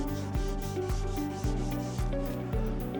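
Rhythmic back-and-forth dry sanding with sandpaper on a block, about six strokes at an even pace, close and fairly loud, with no voices.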